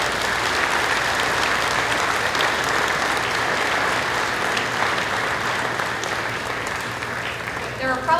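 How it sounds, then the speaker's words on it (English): An audience at a livestock sale of champions applauds scholarship recipients walking to the ring, thick continuous clapping at a steady loud level, with a few voices in the background. "Let's give them a round of applause as they make their way to the ring."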